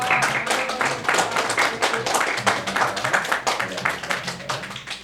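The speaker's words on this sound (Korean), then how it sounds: "우리 큰 박수 한번 해주세요" A church congregation claps to welcome a first-time visitor standing at his seat during a Korean Presbyterian service, with loud, fairly rhythmic clapping that comes in pulsing waves and fills the room.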